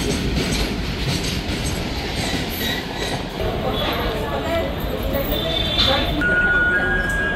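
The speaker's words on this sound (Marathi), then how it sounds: "चला आपली ट्रेन आली आहे." A train pulls into Saphale railway station with a loud rolling rumble and wheel clatter, closing with brief high wheel squeals as it slows, while people talk in the background.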